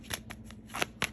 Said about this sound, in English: Now what I want to do this time, I'm going to shuffle again.